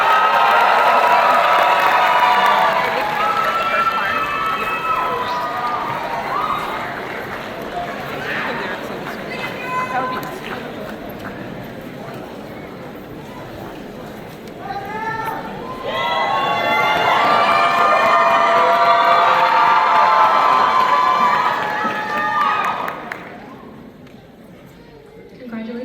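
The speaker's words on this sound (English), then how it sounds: "Please give them a round of applause as they approach the stage." Applause and cheering from a crowd at a Black graduation ceremony as graduates approach the stage, a long sustained wash of clapping with shouts and whoops rising in two big swells before tapering off.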